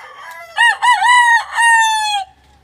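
A rooster crows loudly and close by in one drawn-out cock-a-doodle-doo with a few clipped opening notes and a long sustained final note, heard alone from backyard breeding chickens.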